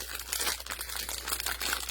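Plastic bandage packaging crinkling as it is opened, a close, busy run of crackling rustles that lasts throughout, with no talk over it.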